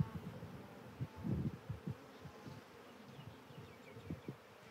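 Honey bees buzzing steadily at a hive beside frames set up for queen rearing in a cell builder, a low droning hum with louder swells as bees pass close.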